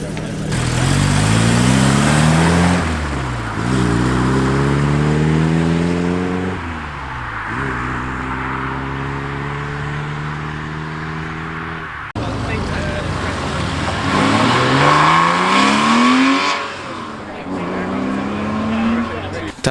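A silver Porsche 944 pulls away at a busy Cars and Coffee breakfast meet, engine revving through several rising gear pulls, loud and near, then fading slightly before a second car accelerates; people talk in the background.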